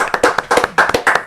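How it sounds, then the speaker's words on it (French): Studio audience clapping on a French talk show as a guest columnist is welcomed, a short burst of distinct, uneven hand claps close by, sparse rather than a full ovation. "Sous vos applaudissements également"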